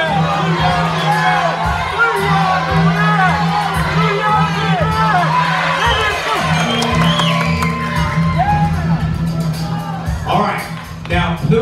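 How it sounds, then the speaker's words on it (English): A game show audience at a Hasbro game show finale yells out a color sequence to teammates in a loud, dense mix of overlapping shouts, whoops and cheers that continues throughout. "yell out the color sequence to your teammates"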